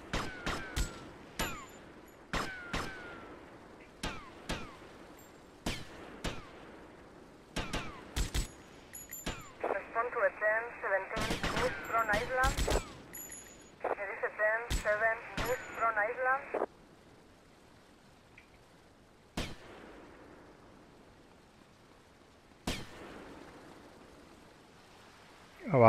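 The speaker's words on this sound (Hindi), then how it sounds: "जो बंदूक की आवाज सुनाई दे रही है भाई, वहां तो नहीं है कहीं?" Sharp gunshots ring out in GTA Vice City, a scattered string of single cracks followed by two bursts of rapid automatic fire, then a few more isolated shots with quiet gaps between them.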